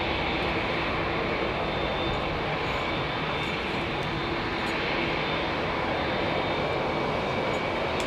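Jet aircraft taking off from runway 27 right at Heathrow Airport in the evening, a steady, loud broadband engine roar that holds constant throughout with no pauses.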